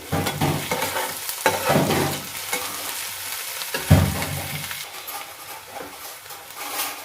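Capsicum frying in hot mustard oil, with loud bursts of sizzling and spatula stirring scrapes that fade into a steady crackle, close up with no talk.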